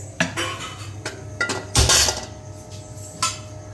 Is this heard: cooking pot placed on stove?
yes